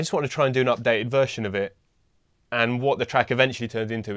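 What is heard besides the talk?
None of the usual background noises is heard.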